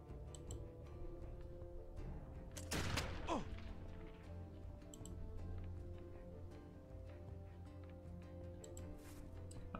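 A single sharp gunshot burst in Expeditions: Conquistador cracks out over a low, steady background of game music, then fades quickly.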